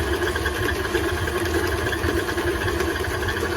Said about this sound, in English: So the butter, sugar, and eggs are whipping together.